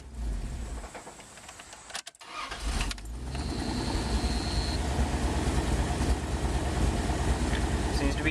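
A truck with an automixer cranks over after a brief pause, catches and settles into a steady, loud engine run that continues to the end.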